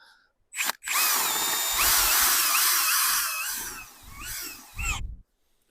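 A Vitals PAU 1870 BS SmartLine cordless drill-driver on second speed drives a screw into hard ash wood, whirring loud and close with a rising, strained whine for about four seconds, plus a short burst just before and after.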